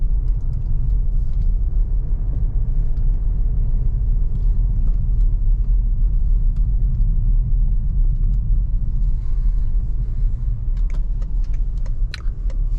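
A BMW G31 530xd rolls over a rough, broken road surface, heard from inside the cabin as a loud, continuous low rumble and road roar with small knocks and rattles from the suspension.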